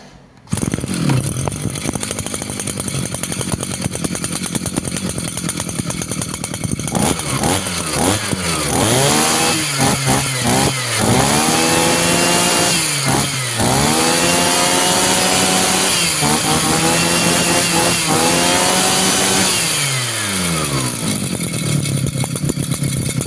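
A small two-stroke engine, nearly 20 years old and freshly cleaned, buzzes at idle, then revs up repeatedly in rising bursts before settling back down, loud and close by.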